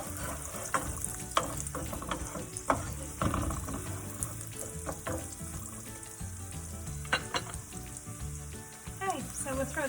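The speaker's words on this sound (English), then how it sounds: "we'll throw the onion in there. So we'll gently fry that up a little bit" Chopped onion gently frying in olive oil and melted butter in a pan gives a steady, close sizzle, broken by the scrape and clatter of stirring.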